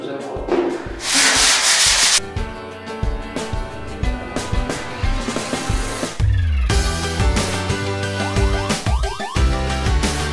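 Hand sanding of a wooden furniture piece, done without a power sander: steady rasping strokes under a busy background with a tonal music bed, no talking.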